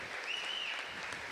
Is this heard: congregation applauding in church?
yes